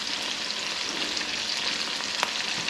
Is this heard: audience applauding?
no